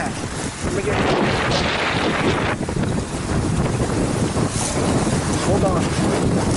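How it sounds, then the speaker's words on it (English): Gusty wind buffets a sailboat on Lake Arthur, a loud, continuous roar of wind noise with swelling gusts and faint water sounds beneath. "But it's real windy."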